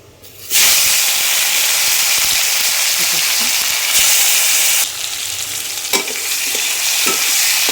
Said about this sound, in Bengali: টমেটোটা একটু ভেজে নেবে, টমেটো কাঁচা গন্ধটা চলে যাবে।